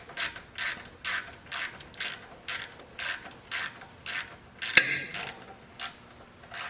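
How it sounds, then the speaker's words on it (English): A ratchet tightening a bolt on a clamp while working on a fire-damaged John Deere: about a dozen evenly spaced rasping clicks in a steady back-and-forth rhythm, close and clear, with one sharp metallic knock midway. "stick it in the clamp and tighten the bolt down"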